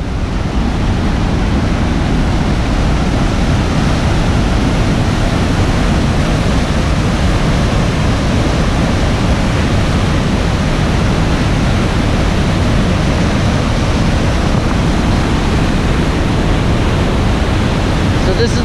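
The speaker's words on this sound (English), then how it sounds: "The lower falls of Rainbow Falls. I think it's the last Rainbow Falls waterfall." Lower Rainbow Falls on the San Joaquin River, a loud, constant broadband roar of falling water that holds steady throughout with no talking.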